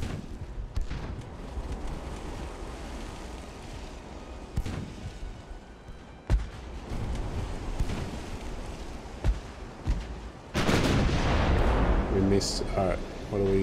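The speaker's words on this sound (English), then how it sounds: "let's try to get one more salvo up" A warship's naval guns in the game Ultimate Admiral: Dreadnoughts fire in heavy booming salvos, with sharp reports over a continuous rumbling battle background and a loud sustained burst near the end, while someone talks over the action.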